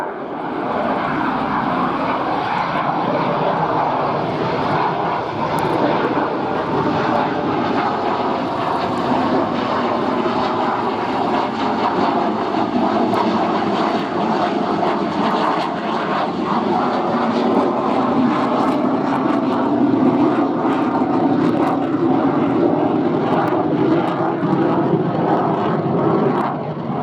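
A Saab JAS 39 Gripen jet of the Swedish Air Force makes a slow, high angle-of-attack pass at the RIAT 2016 airshow, its engine a loud, steady roar that rumbles on without letup for the whole stretch.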